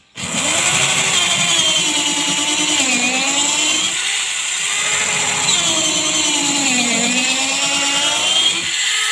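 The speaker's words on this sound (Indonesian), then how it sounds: "di sini saya sudah menyiapkan satu buah papan kayu triplek sebagai media untuk pengeboran pertama" Power drill with a homemade bit boring through a plywood board, a loud steady whine with slight pitch dips as it bites into the wood, running continuously without talk.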